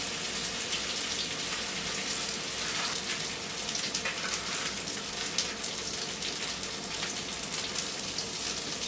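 Mashed potato patties browning in a hot pan, giving a steady, dense crackling sizzle like light rain that holds at an even level throughout, with no talking.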